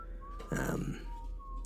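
A thin, high whistle glides along at an even pitch over a soft background hum, with a short breathy burst partway through.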